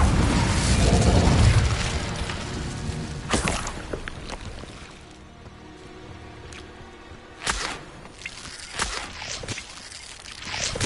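An Incendio fire spell is cast in Hogwarts Legacy, producing a loud whooshing burst at the start followed by several sharp magical bangs and crackles scattered through the rest.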